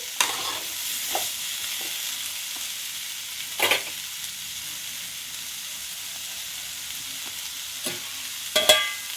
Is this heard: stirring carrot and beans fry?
yes